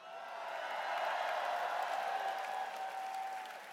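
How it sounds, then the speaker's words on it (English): An audience at the Eurovision Song Contest cheers and applauds in a broad, sustained roar that swells and holds for a few seconds, with no talking over it. "It sounds like cheering."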